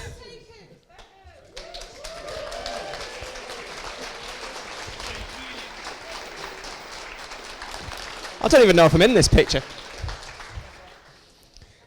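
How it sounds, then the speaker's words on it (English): Audience applause at a hackathon award show in Manchester, a sustained wash of clapping from a crowd that swells toward the end while someone talks over it. "Big round of applause again"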